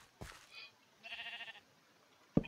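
A blocky Minecraft sheep gives a short, nasal, wavering bleat midway, quiet and alone, bracketed by faint soft clicks and a sharper thump near the end.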